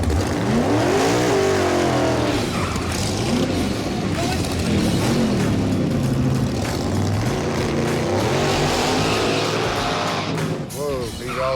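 Loud engines roar and rev continuously in a street drag race between a truck and a car, with the truck veering hard left, while voices talk excitedly over the constant engine noise.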